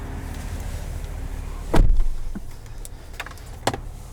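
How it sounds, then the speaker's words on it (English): On a 2020 GMC Yukon XL Denali, a power running board drops as the door opens: a close, solid mechanical thump, then a fading whir and a few light clicks. Another short clunk follows a couple of seconds later. "You can see your running board drops down as soon as you open the door."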